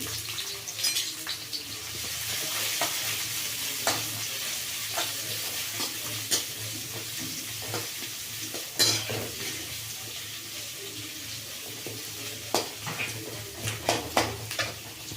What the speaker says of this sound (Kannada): ಅದಕ್ಕೆ ಫಸ್ಟ್ ಈರುಳ್ಳಿ ಹಾಕ್ಕೊಳ್ತಾ ಇದ್ದೀನಿ. ಇದು ಚೆಂದಾಗಿ ಫ್ರೈ ಆಗಲಿ.